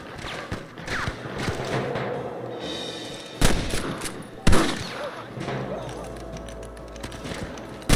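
A Red Dead Redemption shootout crackles with scattered gunshots, two sharp, loud reports standing out amid a busy mix of game sounds and distant fire.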